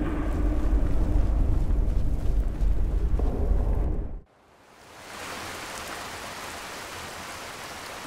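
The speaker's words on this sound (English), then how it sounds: "Middle of the night, raining." Steady hissing rain falls at night in modded Skyrim, a dense even wash that cuts out abruptly for a moment and then fades back in at a slightly softer level.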